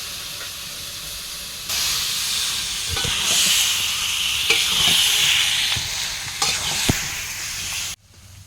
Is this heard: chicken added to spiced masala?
yes